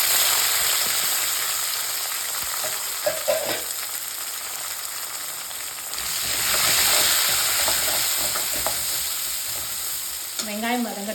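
Onion frying in a pan for a ridge gourd kadayal, a dense close sizzle that swells and eases over several seconds, with occasional scrapes and stirring knocks and a brief clatter at the end.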